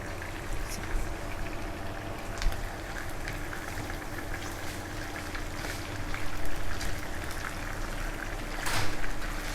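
Chicken pieces frying in hot oil for nasi Afghan, a steady dense sizzle and crackle running throughout at a moderate level, with a few louder spitting bursts near the end and no talk.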